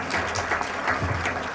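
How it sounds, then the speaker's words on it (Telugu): Audience applause at a music academy's second anniversary celebration, a steady dense burst of many hands clapping together, close and fairly loud throughout. "ఒకసారి క్లాప్స్"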